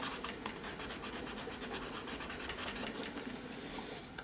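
Colour being burnished on artwork: a steady, soft rubbing and scratching across the surface, continuous and close but fairly quiet, with no voices.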